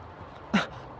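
A large dog in a village gives a single short, sharp snort or huff, close by and over faint background noise.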